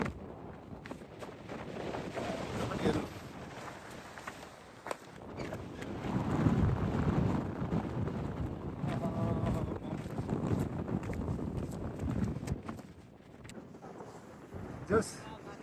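Cold wind gusting across a hillside on a Pen y Fan hike, buffeting the microphone in rough surges that swell in the middle and ease toward the end, with people talking underneath.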